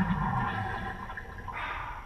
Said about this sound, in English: Customer supplied this special toilet, which he liked. It's really nice. Has electric pump in and flush out.